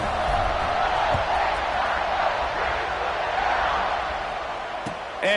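A stadium crowd in a Madden football video game makes a dense, steady roar, loud and near, with faint bursts of noise near the end.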